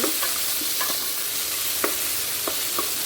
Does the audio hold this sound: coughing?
no